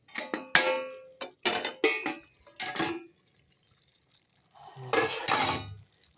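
Sharp metallic clinks and clatter as a pot lid is lifted off meat simmering in ground spices, a few knocks close together, then a pause before a softer shuffling burst.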